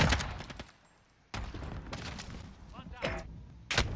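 AK-47 bursts in a video game crack out in a few sharp separate clusters, the loudest near the start and end, with softer shots and game ambience between them.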